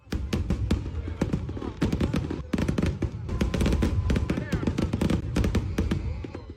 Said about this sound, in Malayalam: Burj ഖലീഫയിലെ വെടിക്കെട്ടും drone ഷോയുമായിരുന്നു ദുബായിയുടെ ശ്രദ്ധാകേന്ദ്രം.